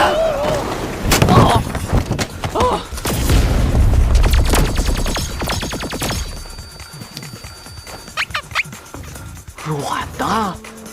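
Booming blasts and rapid gunfire-like bursts fill a film fight scene, loud and close, with crashes and impacts and voices heard between them.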